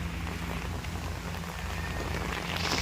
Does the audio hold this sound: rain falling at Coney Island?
yes